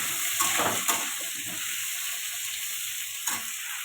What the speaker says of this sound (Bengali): এবার দিয়ে দেবো আলু। এটা ভালো করে কষাতে থাকবো।